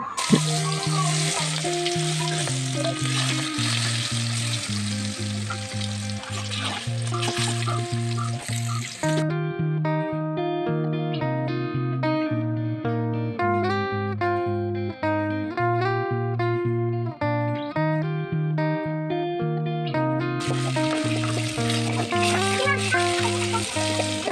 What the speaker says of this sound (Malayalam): മസാലയൊക്കെ തേച്ച് വെച്ചിട്ടുള്ള മീനൊക്കെ ഒന്ന് പൊരിച്ചെടുത്തു